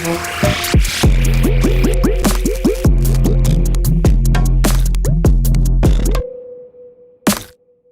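Demo electronic music track in production built around a single snare, with pulsing deep bass, chirping pitch-sweeping synth blips and punchy snare hits; it stops abruptly, leaving a faint hum and one last isolated hit.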